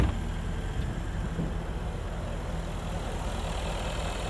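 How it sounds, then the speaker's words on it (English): A deep, rumbling 5-liter supercharged V8 in a 2024 Jaguar F-Type R75 idles steadily nearby, a low throaty drone holding an even level with no voices. "this 5-liter supercharged V8."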